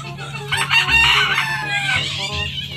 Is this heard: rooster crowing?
yes